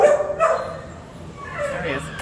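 Puppies in an animal shelter kennel bark and yip in short high bursts with whimpering between them, heard up close as a person talks over them.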